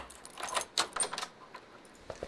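Keys jangle in the video game Don't Escape: 4 Days in a Wasteland, a few quick metallic clinks and rattles close up, faint overall and with no talk over them.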